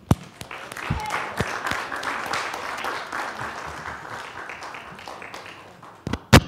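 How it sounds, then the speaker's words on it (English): Warm applause from a small audience at a Christmas church gathering, with a few sharp claps at the start, a sustained round of clapping in the middle, and a final burst of loud claps just before the end. "let's give them another round of applause."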